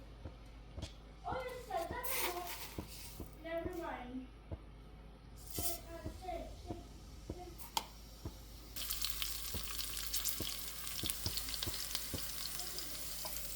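Cumin seeds and green chili fry in hot oil in a pan, a steady sizzle and crackle swelling louder toward the end, with a person speaking over it.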